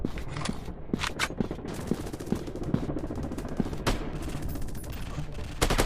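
Gunfire in a PUBG-style first-person shooter game: rapid automatic bursts and sharp single shots crack loudly over a continuous game soundscape, with occasional clicks and footsteps mixed in.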